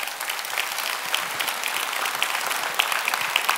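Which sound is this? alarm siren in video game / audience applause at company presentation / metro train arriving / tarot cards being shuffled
audience applause at company presentation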